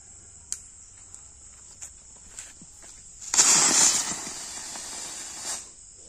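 Firecrackers set off in a test: a few faint, spaced pops, then a loud hissing, crackling burst lasting about two seconds, over a constant high insect-like whine.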